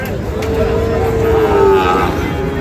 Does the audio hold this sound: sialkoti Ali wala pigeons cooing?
no